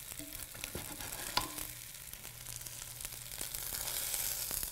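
Cornmeal-coated pieces sizzle steadily in a pan over low heat, a constant crackling hiss with a brief clack of turning near the middle and no talking.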